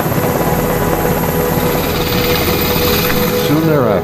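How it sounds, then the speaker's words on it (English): An HS-60 Seahawk helicopter leaving the aircraft carrier Nimitz, its loud rotor thrum steady and close throughout, with a rising whine near the end. "soon board an HS-60 Seahawk helicopter and leave Nimitz"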